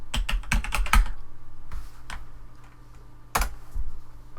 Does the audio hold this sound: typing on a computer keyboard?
yes